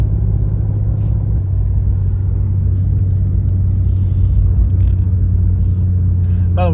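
Rear-wheel-drive BMW M2 G87, freshly past its break-in service, accelerating hard: a loud, steady low engine drone and road rumble from inside the cabin, continuous throughout with faint rising tones near the end.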